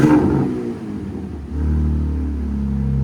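A 2025 RAM RHO with a 3.0L twin-turbo inline-six and Magnaflow SPEQ cat-back exhaust revs up loudly and close, dips back, then surges into a deep sustained drone.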